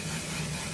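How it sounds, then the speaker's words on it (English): A short hiss of One Size makeup setting spray misting out, soft and close, lasting under a second with no talk. "I'm gonna set with the One Size spray."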